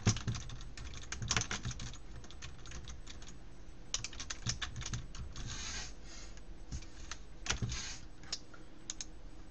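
Steady, quiet clatter of keys being typed on a computer keyboard, close and continuous with occasional bursts of faster keystrokes and no talking.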